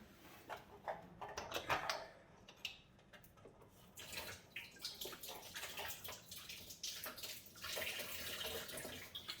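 During an engine teardown, water runs and splashes in uneven bursts, quiet and close, with irregular surges and pauses throughout.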